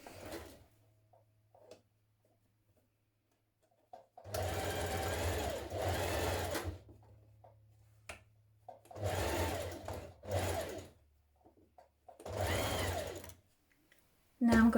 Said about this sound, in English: You're going to stitch down this side, matching these notches here.